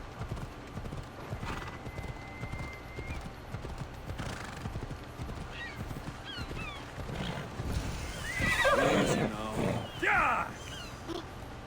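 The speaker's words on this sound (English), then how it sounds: "I'd be scared of a flaming horse" Flaming horse in Assassin's Creed Odyssey giving a loud, rising neigh and whinny near the end, after steady clip-clop hoofbeats, over game ambience and occasional bird calls.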